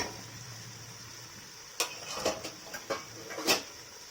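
A spoon stirs cooked-down, pulpy tomatoes in a pot for a chicken biryani, giving a few soft, scattered clinks and scrapes against the metal over near silence, with no talking.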